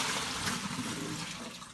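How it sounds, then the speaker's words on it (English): Soapy wash water being poured out of a basin after hand-washing bikini competition suits, a brief, steady, close rush of splashing liquid. "Now what we're going to do is we're going to dump out the soap."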